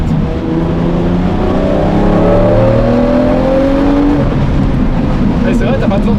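A Lamborghini Murciélago LP-580 V12 with a manual gearbox revs steadily upward in second gear, a loud continuous engine whine rising in pitch while a person talks over it inside the car.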